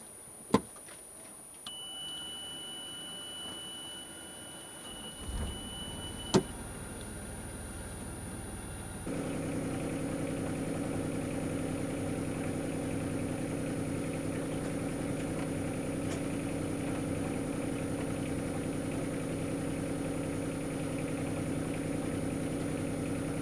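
Boat outboard motor idling gently on the water in December, with a few faint beeps and knocks before a steady low engine hum starts partway through and continues to the end.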